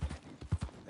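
Horse hooves clip-clop in a PS4 video game, four or five hollow thuds in an uneven rhythm, close and moderately loud, with no talking.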